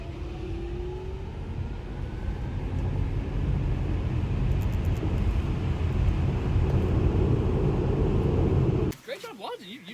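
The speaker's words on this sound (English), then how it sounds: "racing in the Model 3" A Tesla Model 3 races with steady, loud road and drivetrain rumble and a faint rising electric whine, the noise cutting away sharply just before the end.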